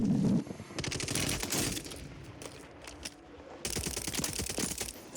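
Rapid automatic gunfire in the video game Warzone, sustained bursts of dense crackling shots with a brief lull midway before another long burst.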